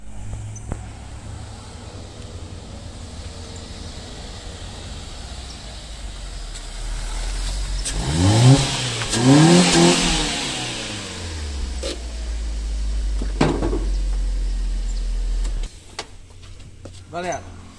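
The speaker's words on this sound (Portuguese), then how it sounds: "O carro tá andando certinho." A repaired Fiat Uno Vivace car engine runs with a steady low hum that swells and revs midway, then settles again, while people talk over it.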